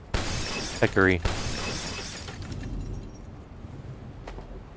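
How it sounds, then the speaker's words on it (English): Glass shatters and shards clatter down in the video game Abiotic Factor: a sharp crash near the start, then scattered tinkling bits, with a voice speaking briefly over it. "Some of the glass shards, I think, fell down."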